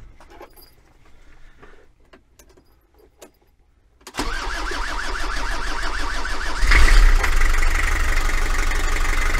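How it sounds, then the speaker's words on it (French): A car engine restarting after a quiet stretch with faint clicks and jangling keys, catching abruptly with a cranking whine and then settling into a loud steady idle with a brief rev partway through. "Alors je vais essayer de le redémarrer et de faire ça avec le moteur tournant."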